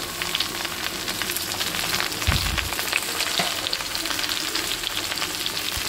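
Ridge gourd with salt and turmeric fries in a pan, a dense continuous sizzle with scattered crackles and a brief low thump of stirring, no talking.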